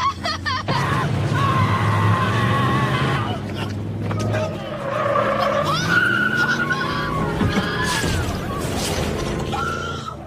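A car skids and runs over a man in a film scene, with screeching tires, crashing impacts and mechanical noise over a steady loud mix, with voices and commotion underneath.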